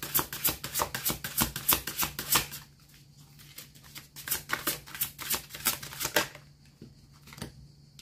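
Tarot cards being shuffled, a rapid run of crisp riffling flutters in bursts with short pauses between, close and alone with no talk.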